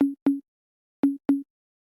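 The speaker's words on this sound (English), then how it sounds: "So I have this high tom, it sounds like this." A high tom drum sample for an organic or deep house track hits four times in two quick pairs, each a short, punchy, pitched thump that cuts off cleanly, dry and isolated with silence between.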